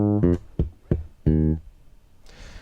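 A bass guitar plays a short lick with ghost notes: a few clear plucked notes mixed with muted, percussive ghosted hits in quick rhythm, close and alone, ending with a soft string scrape.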